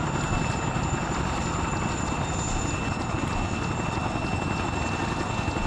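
Steady, loud rotor and turbine roar of a large twin-rotor transport helicopter, similar to a Chinook, flying in the military game Arma 3, constant and unbroken with no talk over it.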